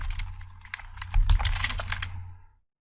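Close, quick keystrokes on a computer keyboard tap out a short burst of code in an irregular rhythm, then stop into silence.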